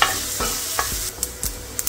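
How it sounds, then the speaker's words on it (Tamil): Tempering spices fry and sizzle in hot oil for a pennywort chutney, a close, steady hiss broken by a few sharp stirring scrapes and clinks, with no talking. "நீங்கள் உங்களோட விருப்பத்துக்கு ஏற்ற மாதிரி பொறிச்சு அல்லது வதக்கி தாளிதத்தை செய்யலாம்."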